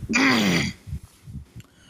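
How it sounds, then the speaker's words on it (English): A single harsh, loud cough up close, followed by a few softer breathy throat sounds and small noises. "sorry about the coughing"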